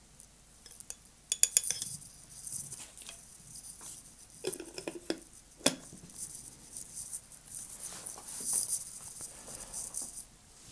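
Spoon clinking against a clear drinking glass, light scattered metallic taps and tinkles at low level with quiet handling noise between them.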